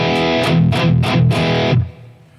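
An electric guitar runs through an Axe-FX amp preset with a neutral boost, playing a few loud, distorted strummed chords in quick succession before the last one is cut off and the ringing tail fades.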